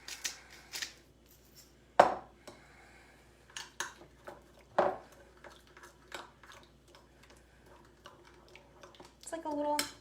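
A teaspoon clinks and taps against a bowl while honey and fresh pepper are stirred into a marinade for shrimp. The irregular light ticks come close by, with soft movement between them and a few louder knocks.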